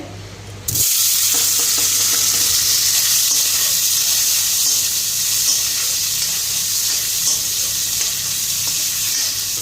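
Paneer frying in hot oil, a loud, steady hiss and sizzle that starts abruptly and continues unbroken at close range, with no talking.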